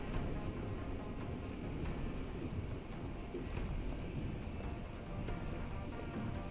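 A thunderstorm in the game Deus Ex: Human Revolution, a steady wash of heavy rain with low rumbling thunder underneath, even and continuous throughout.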